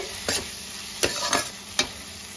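Spice masala fries for a tengra fish curry, a soft sizzle running underneath while a spoon scrapes the pan in a few sharp, spaced strokes.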